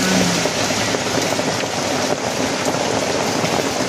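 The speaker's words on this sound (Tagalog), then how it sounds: "Lakas ng ulan." Heavy rain pours steadily in Tagaytay, a loud, dense, unbroken hiss of drops drumming on surfaces, with no voices.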